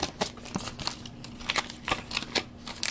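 A taped mail package holding Pokemon cards is opened, with close crinkling, crackling plastic and short tearing rips of tape in irregular bursts over a faint steady hum.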